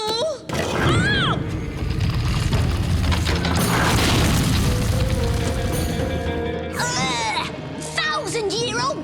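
Cartoon sound effects of old guns firing: heavy booms and crashing blasts rumble loud for several seconds, mixed with excited high-pitched cartoon voices shouting before and after.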